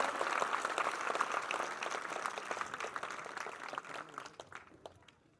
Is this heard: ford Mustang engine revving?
no